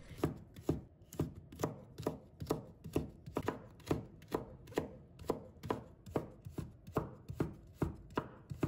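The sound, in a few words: knife chopping carrot into thin strips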